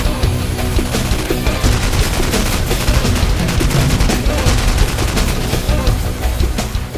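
Gunfire echoes through a gun store shooting range in Las Vegas, a dense, continuous barrage of sharp shots from several guns firing at once, loud and close with a faint voice underneath.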